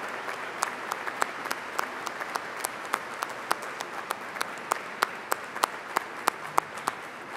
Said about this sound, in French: applaudissons Marie que nous fêtons et que nous ramenons